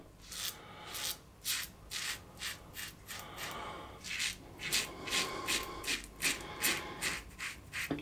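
A Rockwell 6S safety razor set on plate two scrapes against the grain of facial stubble in a rhythmic run of short, close rasping strokes, about a dozen over several seconds, with no talking.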